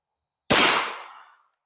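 Single sharp report from a Ruger LC Carbine firing a 10mm handload outdoors, a loud crack with a short decaying echo tail lasting under a second.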